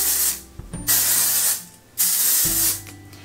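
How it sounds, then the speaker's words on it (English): Hairspray spritzed over a finished braided hairstyle: three long, close hissing bursts from the aerosol can, separated by short pauses with faint clicks of the nozzle. "I am just going to spritz this hairspray all over one more time"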